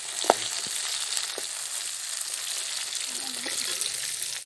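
Onions and tomato fry in a pan, giving a continuous, even sizzling hiss with a couple of brief knocks near the start and a faint voice in the background.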